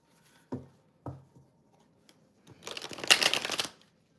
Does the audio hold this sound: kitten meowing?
no